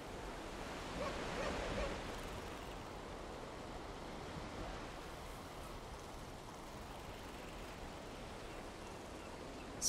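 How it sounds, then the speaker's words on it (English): Ocean waves in Valheim wash in a faint, continuous surf with a gentle swell near the start, then settle into a low steady rush with a little wind-like noise. "Waves were making that really hard."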